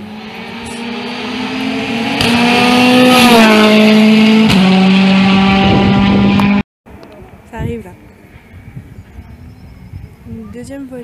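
A rally car speeds past at a rally, a loud rising engine whine whose pitch climbs and then drops before cutting out abruptly, followed by quieter crowd and ambient noise with a voice.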